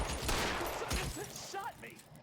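Gunfire in the video game L.A. Noire: a rapid flurry of pistol shots crackles in the first second amid in-game voices, then shouting continues over fading noise.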